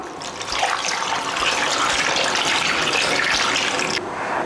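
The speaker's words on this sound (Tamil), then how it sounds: "இப்போ இதில் வந்து ஒரு 1/2 லிட்டர் அளவு தண்ணி ஊற்றலாம்" Water pours steadily into a pot in a continuous splashing gush for a few seconds, close up, then abruptly stops.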